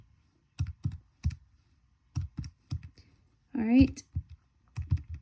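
Keys on a computer keyboard clicked one at a time as a math function is entered, giving sparse close-up taps with gaps between them; a short spoken phrase breaks in midway.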